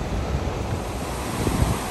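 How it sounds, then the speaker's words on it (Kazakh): Ocean waves at the Maldives wash in a continuous, even roar of surf mixed with wind noise, steady and moderately loud throughout, with no voices. "Толқынды тамашалап"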